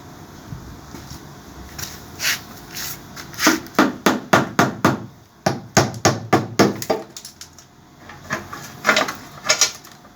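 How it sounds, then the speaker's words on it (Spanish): Rubber mallet striking the cylinder head of a Torino seven-main-bearing engine during removal, a series of sharp, close knocks in quick bursts, some evenly spaced, over a faint background hum. "Voy a buscar el martillo de goma"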